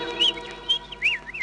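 Short bird chirps on a 1949 RCA Victor Little Nipper Pinocchio children's record, several quick high tweets in a row over faint record hiss.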